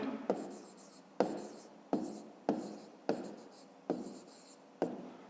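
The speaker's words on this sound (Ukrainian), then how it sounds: "Ну що ж, давайте запишемо жоржин" Pen or pencil strokes writing numbers on paper during a fifth-grade maths exercise, in about seven short scratching bursts, each starting with a sharp tap and trailing off, close and fairly quiet.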